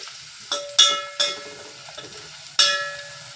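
Onions and tomatoes frying in a pan for vaghareli khichadi, giving a steady low sizzle broken by several sharp clinking stirs and scrapes of a utensil against the pan, close and fairly quiet with no voices.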